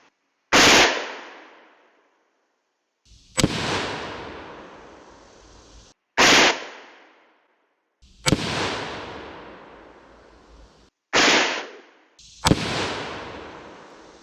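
Five AR-15 rifle shots fired one at a time while zeroing at a range, each a loud, sharp crack followed by a ringing echo, spaced a couple of seconds apart with no talk between them.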